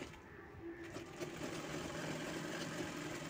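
A sewing machine stitches the hem of a baby frock in a steady, fast, even whirring hum that runs quietly and continuously throughout.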